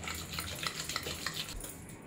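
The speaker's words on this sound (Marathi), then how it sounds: "सगळं मॅश करून घेऊया आपण किरकिरी." Cooked green moong dal with crushed garlic is mashed in a pot, giving a close, steady run of soft, wet squelching and scraping strokes with no talk.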